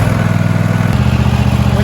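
A Toro Timecutter SS4225 mower's engine is started with the key: a loud, close, steady mechanical drone that shifts and settles partway through, running alone without voices.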